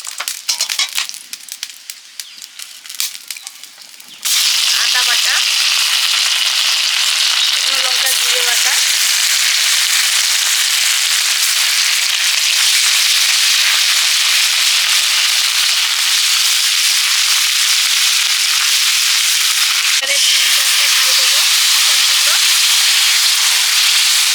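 Five-spice, dried chilli, bay leaf and turmeric hitting hot oil for a Bengali tempering: a sudden loud, steady sizzle and hiss that starts a few seconds in and continues close and unbroken, after some earlier clattering.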